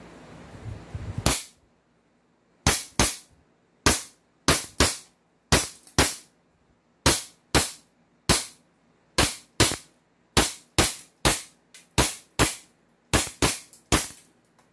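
Toy shotgun firing round after round: after a brief noisy lead-in, about seventeen sharp, loud cracks come in a steady rhythm with short gaps, each one snapping out alone with no talk over it.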